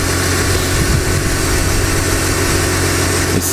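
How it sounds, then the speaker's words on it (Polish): Car engine idling unevenly, warmed up before an oil additive is poured in, a steady loud rumble with a slightly irregular throb and a brief clatter near the end, with no voices. "A jak nierówno coś pracuje sam ten"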